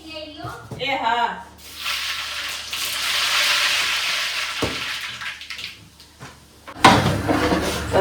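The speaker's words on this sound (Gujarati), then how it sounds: "અહીંયા અત્યારે હવે ટમેટાની ગ્રેવીનો વઘાર થઈ ગયો છે." Tomato gravy is tempered in hot oil while cooking tur-brinjal-fenugreek curry, giving a broad hissing sizzle that swells for several seconds, fades, then returns with a sharp burst near the end.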